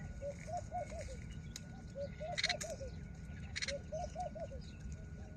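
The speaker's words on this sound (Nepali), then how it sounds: "तीनटा चराको बच्चा लाएर" Three baby birds in a lemon tree in Dubai make soft, repeated cooing calls in short groups of four or five notes, fairly quiet against a low background hum, with a few faint taps and no speech.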